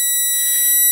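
Trigger tape sensor alarm: one steady, loud electronic tone with bright layered overtones, held unbroken for just under a second with no other sounds.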